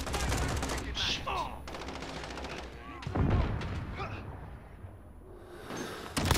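Bursts of gunfire from Call of Duty Modern Warfare ring out in irregular volleys, loud and close, with sharp cracks over a busy game mix, while a voice talks intermittently.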